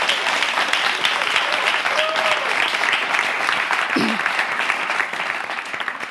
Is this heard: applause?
yes